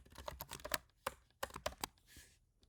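Rapid, close keystrokes as code is typed on a computer keyboard, coming in two quick bursts with a short pause between them, then a brief soft rustle.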